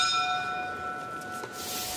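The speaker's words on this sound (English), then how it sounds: "So bell goes for start of the second." A boxing bell signals the start of the second round of a bout, its bright ringing tone sustained and slowly decaying over a quiet arena background.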